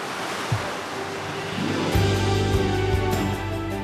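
Small, gentle ocean waves wash over a shallow white sand beach on Lombok, a steady soft surf hiss that swells slightly midway, with no voices.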